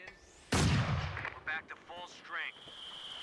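Artillery and mortar indirect fire from pack howitzers and a Scott in a Company of Heroes 2 match: one loud booming blast followed by a few shorter impacts and bursts, with a voice speaking between them.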